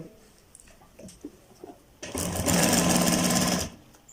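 A sewing machine stitches a kurta in a test run after its bobbin tension was tightened. Faint handling sounds come first, then one loud, close, steady whirring burst lasts about a second and a half before stopping.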